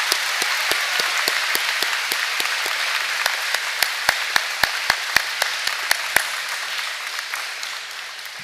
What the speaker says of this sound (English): Let's give everyone here to support us a nice round of applause